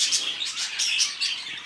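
Male pigeons kept as pets calling, a series of close chirping and cooing notes that repeat in quick pulses, with a faint flutter of wings.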